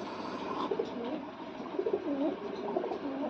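Pigeons coo softly in a low, throaty, repeated rhythm against a steady background hiss, several bubbling calls overlapping at close range and fairly quiet.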